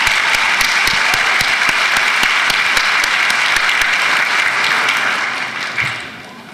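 Loud, sustained applause from an audience at a 2019 APIDA recognition celebration, dense steady clapping that fades toward the end.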